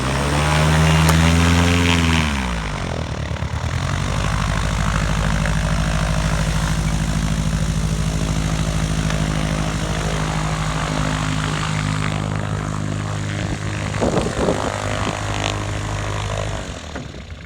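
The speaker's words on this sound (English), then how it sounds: "Now Mick's going to give us a demo on how manoeuvrable the Ogar is in the ground with a 180-degree turn." Propeller engine of an SZD-45A Ogar motor glider swinging through a 180-degree turn on a grass field, a loud droning buzz whose pitch sweeps down early, then settles into a steady close rumble.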